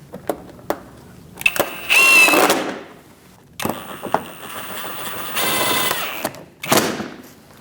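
Power driver running screws into a 2006-2011 Chevrolet HHR 2.4L during accessory drive belt tensioner replacement; two loud whirring bursts separated by knocks and handling noises, close up.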